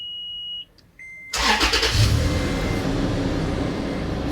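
Toyota 4WD truck engine cranks and catches after a couple of short electronic beeps, then settles into a loud, steady running rumble close by.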